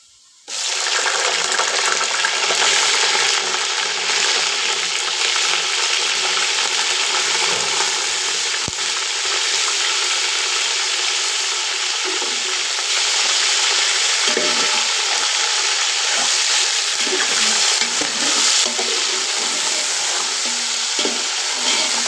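Chicken pieces fry with browned onions in a pot for biryani, giving a loud, steady, dense sizzle throughout with occasional clinks and stirring scrapes close by.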